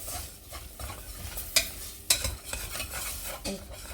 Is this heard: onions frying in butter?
yes